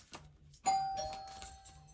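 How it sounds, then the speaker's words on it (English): A two-tone electronic doorbell chime rings once, clear and fairly close, with a faint hum in the background. "that's the doorbell"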